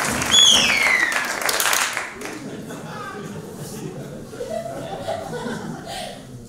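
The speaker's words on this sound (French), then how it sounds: "Est-ce qu'on peut tous l'applaudir?" Audience at a student stand-up comedy show applauding and laughing as the performer Benjamin walks up from the back of the hall, a loud burst of clapping and chuckles that drops after two seconds into a quieter crowd murmur.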